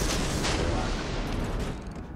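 Torpedoes launched from a ship in a naval combat video game: a dense, loud, rumbling burst of firing that fills the whole moment and fades slightly at the end.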